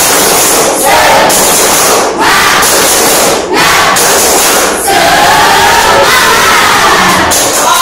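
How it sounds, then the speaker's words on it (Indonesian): A class of children shouts and cheers together in bursts, with rhythmic clapping between loud chanted calls. "Tepuk semangat."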